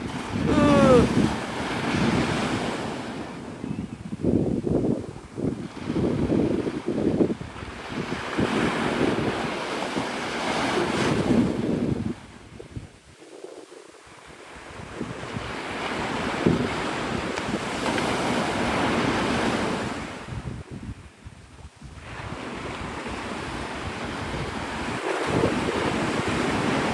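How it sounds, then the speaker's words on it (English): Ocean waves break and surge at sunrise on Navarre Beach, Florida, a loud continuous roar of surf rising and falling with buffeting wind noise on the microphone. "These waves are definitely bigger than yesterday."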